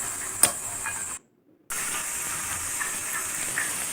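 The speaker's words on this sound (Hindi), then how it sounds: "2 मिनट तक मटरों को फ्राई कर लेंगे" Peas fry in a pan with a steady, close hissing sizzle, broken by a brief cut to silence before the sizzle resumes at the same level, with no talking.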